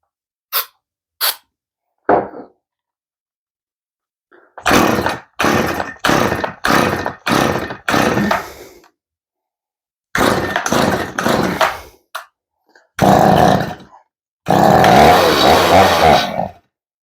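A chainsaw primed with starting fluid in the carburetor is pulled over several times, then fires in short loud bursts that sputter and die between pulls, ending in a longer roar.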